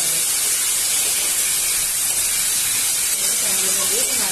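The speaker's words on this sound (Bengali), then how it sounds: "এবার আমি টমেটোটাও দিয়ে দেবো" Tomatoes go into a hot pan with lightly fried prawns, raising a steady, loud hiss of sizzling oil that continues unbroken from start to finish.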